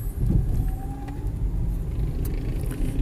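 Busy road junction in Malaysia with vehicles pulling out from all four directions, a dense steady rumble of car engines passing close by, continuous with no talk.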